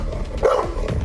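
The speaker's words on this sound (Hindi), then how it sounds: "Number 3 pitbull. इसकी आवाज आपकी धड़कनें तेज कर सकती है।" A pitbull gives a single deep bark close by, loud and short, with no talk.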